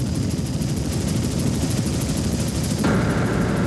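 A helicopter flying over hurricane damage from Hurricane Hugo in 1989 along the Grand Strand, with continuous loud rotor and engine noise, a dense pulsing roar that holds steady throughout.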